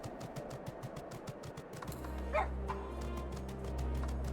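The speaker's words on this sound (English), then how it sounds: "Our little doggo is so terrifying, he'll just bark away the enemies." A small dog in Final Fantasy XIV yips in a quick run of sharp little barks, then a brief whine over a low game ambience and soft mechanical creaks.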